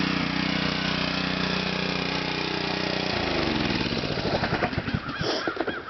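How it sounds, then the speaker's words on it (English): A pressure washer with a Honda engine runs at a steady idle, a constant mid-pitched drone that shifts partway through into a rougher, pulsing chug with some uneven flutter near the end. "there's this awesome pressure washer"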